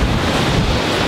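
Ocean surf and strong wind at the southernmost tip of Africa, a dense, continuous roar of waves and buffeting wind against the microphone, loud and unbroken with no voices.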